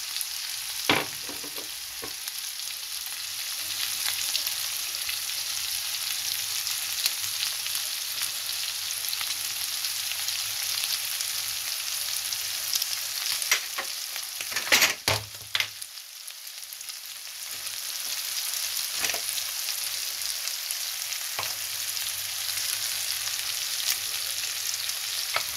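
Shawarma frying in a pan with five-spice seasoning, thyme and a little curry, giving a steady close sizzle with occasional stirring scrapes and clinks throughout.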